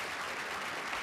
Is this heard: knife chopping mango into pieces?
no